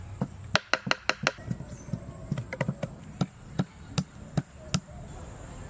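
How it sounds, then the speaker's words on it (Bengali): A knife chops coriander leaves on a board with about fifteen crisp, close strikes in an uneven rhythm. A steady high insect-like drone continues in the background. "এবার ধনেপাতাটা কুচি করে নিই। আজ আমি ছুরি দিয়ে কাটাকাটি করি"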